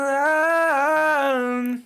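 A pop vocal with subtle crunch distortion sings a sustained, gently gritty note that bends in pitch midway and cuts off near the end, with no talking.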